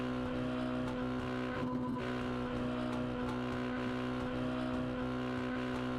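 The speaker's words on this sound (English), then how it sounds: "I guess if you can burn out in a Mazda MX-5, you can burn out in these things." Virtual truck revving through a burnout at Daytona in iRacing, with a steady loud engine drone and sustained tire squeal, a brief surge near the middle, continuous and alone.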